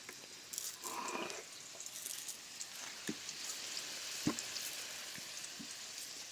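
Potatoes frying in a pan give a soft, continuous sizzle with a few faint clicks and clatters of stirring, moderately quiet and heard alone.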